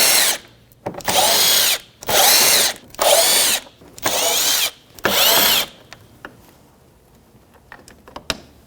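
A power driver whirs in five loud bursts of about a second each as T20 Torx screws come out of the top of a 2007-2017 Jeep Patriot bumper area, followed by quieter clicks and handling noises.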